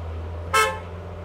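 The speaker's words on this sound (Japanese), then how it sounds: "ホーン、" A Lamborghini Aventador S horn sounds once, a loud, bright honk lasting about a quarter second over a steady low engine idle, with no talking.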